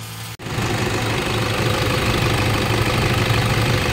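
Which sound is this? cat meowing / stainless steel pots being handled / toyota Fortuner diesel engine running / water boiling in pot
toyota Fortuner diesel engine running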